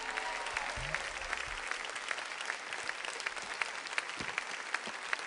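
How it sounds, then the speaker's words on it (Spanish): Church congregation applauding during a worship service, steady dense clapping across the whole stretch with a low hum underneath, moderately distant. "Dele ese aplauso fuerte al que vive, iglesia amada"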